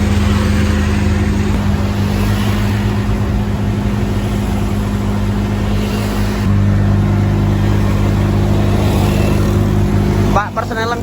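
A Bajaj three-wheeler's rear-mounted engine roars steadily and loudly while climbing a hill in Semarang, heard close from inside the cabin, with a brief shift in pitch partway through.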